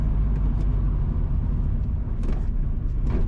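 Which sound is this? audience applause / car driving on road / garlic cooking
car driving on road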